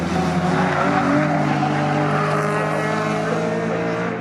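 Saloon race cars, among them a Seat Leon and a BMW 130, roar around the Snetterton circuit in a loud, continuous engine drone that holds steady with only slight swells.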